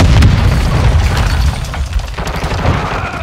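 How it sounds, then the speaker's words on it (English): A Semtex grenade goes off in Call of Duty Warzone 2, a loud, close boom with a rumbling tail that stretches over a few seconds. "Throwing Semtex!"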